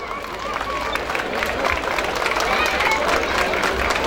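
A festival audience at the 2013 Kuşcenneti Festival applauds as a folk dance master is called onstage. The clapping is sustained and dense, with crowd murmur running beneath it throughout.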